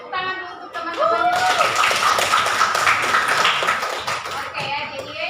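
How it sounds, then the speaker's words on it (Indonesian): Classmates clapping in a classroom, a burst of hand claps that follows a teacher's voice, runs for a few seconds and then fades as talk resumes. "tepuk tangan dulu untuk teman-teman"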